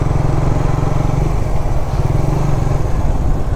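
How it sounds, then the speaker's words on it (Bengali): Motorcycle engines drone steadily in the dedicated motorcycle lane on the Padma Bridge, a loud, close, continuous low rumble from several bikes riding together. "অনেক বাইকাররাই কিন্তু ঢুকতেছে"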